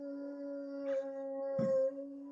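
A pet dog howls in a drawn-out, sustained tone that carries through the whole clip, with a couple of brief louder yelps or breaths breaking in near the middle and end.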